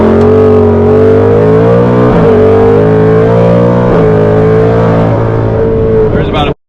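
A supercharged 2024 Ford Mustang GT accelerates hard in second gear, its engine note loud, close and continuous as it climbs in pitch, with brief dips at shifts or wheelspin before cutting off abruptly.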